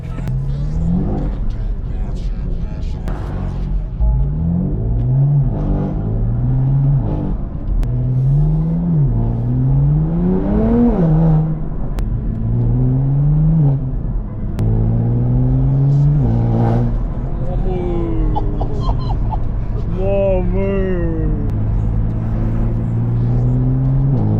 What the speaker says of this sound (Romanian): Test evacuare M2CS.